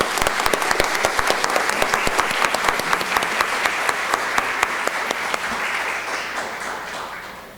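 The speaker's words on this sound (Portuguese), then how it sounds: "Eu quero uma salva de palmas para a dona Ela." A full audience applauds at a solemn civic ceremony in Brasília honoring a doctor, dense steady clapping with sharp individual claps standing out, fading slightly toward the end.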